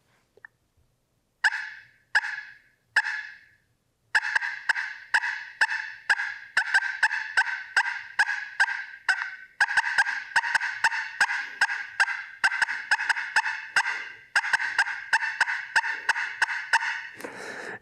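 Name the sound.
turkey pot call playing a cut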